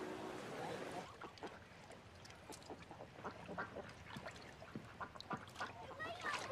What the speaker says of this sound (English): See that duck?